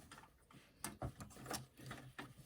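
Sewing machine stitching a quarter-inch seam on a fabric bag, with a quiet, close mechanical whir and rapid ticking needle rhythm in short bursts.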